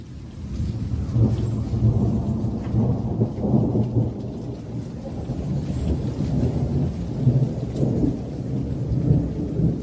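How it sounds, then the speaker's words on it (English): A thunderstorm with steady rain falling and low rumbles of thunder rolling through, a continuous wash of sound at moderate loudness with no voices. "It is a thunderstorm."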